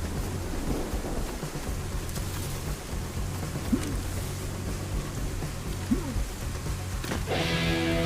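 Heavy rain pours steadily in a survival video game, a dense even wash of drops with low rumbling underneath and a few brief faint tones, loud and continuous throughout with no talking.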